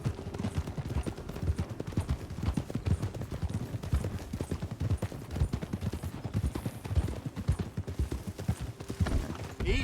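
Horse hooves clip-clopping in the video game Red Dead Redemption 2, a brisk, continuous rhythmic beat of hoofbeats close by that holds steady for the whole stretch.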